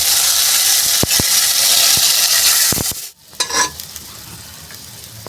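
Loud hiss of a hot tempering of mustard seeds and asafoetida, then a sharp burst of sizzling as undhiyu vegetables are dropped in and stirred, with clanks of a spoon against the pan.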